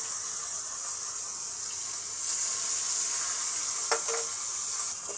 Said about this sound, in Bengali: কড়া ভাজতে হবে মাছটা